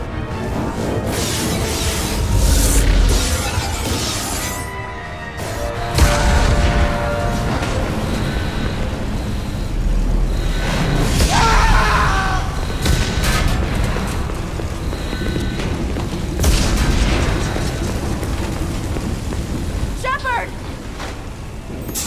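Explosions and crashing impacts aboard a starship under attack in the video game Mass Effect 2, with rumbling booms and debris over alarms and shouted voices throughout.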